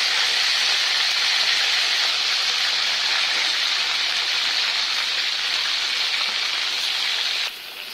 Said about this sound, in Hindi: अभी मैं इसके अंदर ऐड कर रही हूँ बैगन, जो हमने पील कर कर रखा था ना,